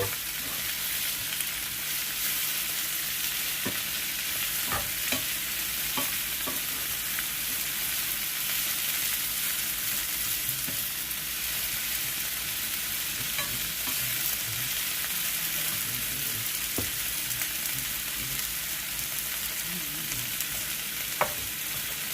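Bok choy sizzling in a pan, a steady bright hiss with occasional pops and stirring taps, close and continuous with no talk.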